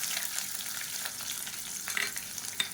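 Small onions, dried red chillies and about twenty chopped garlic cloves frying in hot oil for a Tamil kuzhambu, giving a steady close sizzle with faint crackles and a couple of sharp pops.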